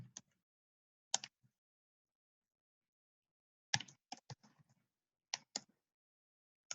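Computer mouse clicks in a quiet room, a few sharp, close clicks arriving singly and in quick pairs or clusters, separated by silent gaps.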